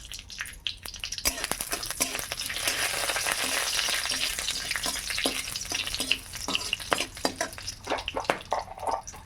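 Whole spices (green cardamom, cloves, cinnamon and two bay leaves) fry in hot ghee in a wok, giving a loud, continuous sizzle with crackling pops and a few sharp clicks throughout, with no talking.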